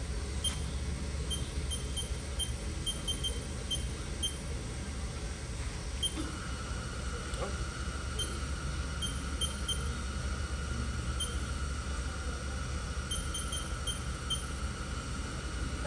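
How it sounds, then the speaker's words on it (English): A Haas VF-2B CNC vertical machining center, a 2002 20 hp model, runs its spindle and shifts from low to high gear partway through, with a steady machine hum and a new tone that rises and holds. "You'll see it shift into high gear."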